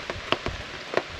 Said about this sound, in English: I don't even care that it's raining